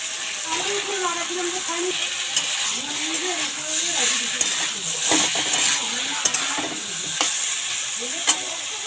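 Fried eggplant added to a simmering pabda fish curry: a steady sizzle with spatula scrapes and occasional metallic clinks against the pan, close by, while someone speaks over it.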